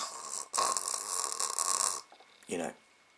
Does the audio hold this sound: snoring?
yes